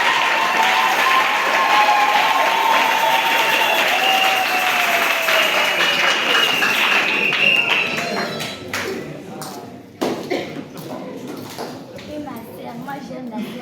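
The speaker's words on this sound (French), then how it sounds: "Acclamez." A church audience applauds loudly and steadily at a Sunday school theatre play during a New Year's Eve vigil. The clapping then thins into scattered claps and soft voices.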